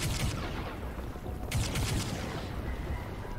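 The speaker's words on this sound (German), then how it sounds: "die Waffe, die schießt aber auch ordentlich daneben" Gunfire from a weapon in the video game Crysis 3 rattles in dense, rough bursts over a constant low rumble, fairly faint, with a sharper burst midway and no talk.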